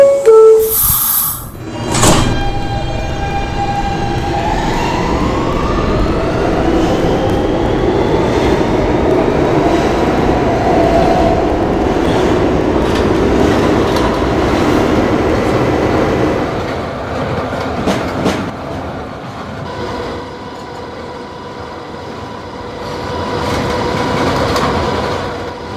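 Subway E train running on the tracks, a loud continuous rumble and hiss of the car in motion with rhythmic rail clatter and squeals, heard from on board over a long stretch.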